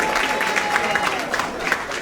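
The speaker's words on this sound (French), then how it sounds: "Applaudissez pour elle, s'il vous plaît, mesdames et messieurs." An audience at a Paris gathering for a visiting king applauds, a dense continuous patter of clapping from a crowd, moderately loud for two seconds.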